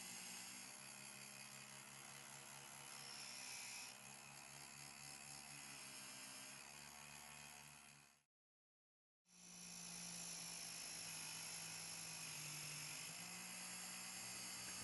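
A Drill Doctor sharpener grinds the flat of a spade bit against its wheel, making a faint, continuous high-pitched whine. The sound stops cleanly for about a second, then resumes at the same level.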